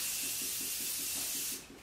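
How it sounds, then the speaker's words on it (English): A Morphe continuous setting mist bottle sprays in a fine, rapid pulsing hiss for about a second and a half, close and steady before cutting off. "I am setting this into place with my usual Morphe continuous setting mist"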